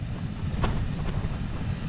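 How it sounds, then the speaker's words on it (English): Steady breezy wind blowing across an open, quiet beach, a continuous low rumble and buffeting close to the microphone with no voices. "Still quite breezy."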